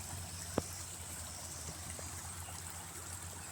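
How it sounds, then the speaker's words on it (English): Faint, steady trickle of a creek flowing across a road, ankle-deep runoff from a neighbor's land, with one brief knock near the start. "This is the creek that comes from the neighbors and runs down and crosses the road."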